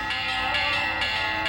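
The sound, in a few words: village church bells ringing the call to mass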